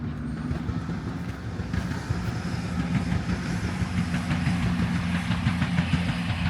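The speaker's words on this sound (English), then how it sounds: "There's another train going past." A Northern train passing near Filey rolls past with a continuous rumbling drone and faint rhythmic clatter of wheels on track, steady throughout.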